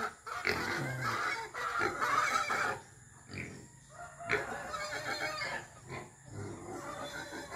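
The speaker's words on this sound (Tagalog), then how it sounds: "Ayan yung aming baboy na native." A native pig on a farm grunts in short, irregular bursts, mixed with nearby chicken and rooster calls, moderately close.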